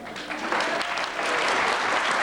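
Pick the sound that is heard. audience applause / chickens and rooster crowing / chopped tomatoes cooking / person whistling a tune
audience applause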